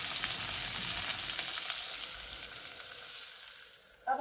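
Two medium onions, finely sliced, sauté lightly in a hot pan, giving a steady, loud sizzling hiss that runs throughout with little variation and no voices.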